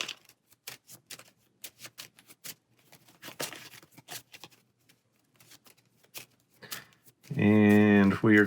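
A deck of cards is riffled and bridged repeatedly during a Marvel Champions card game, a long run of quick crisp fluttering snaps close by, followed by a loud tonal blast at the end.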